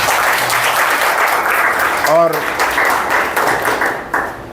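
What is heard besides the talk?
audience applause for MCI institute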